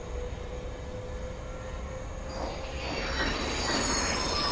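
A regional express train in Train Simulator Classic pulls away, wheels squealing in a sustained high whine that grows louder as it starts to roll, over a steady rail rumble.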